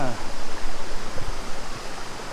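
Steady broadband rush of a waterfall at a rest stop during a solo motorbike trip through southern Thailand, a continuous near wash of falling water with a brief voice at the start.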